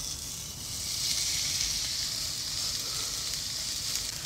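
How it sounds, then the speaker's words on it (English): Ribeye steak searing in smoking hot oil in a pan at a beach campsite, a steady bright sizzle running the whole time with no talk over it. "You want to make sure that your steak is completely dry when you go to sear it."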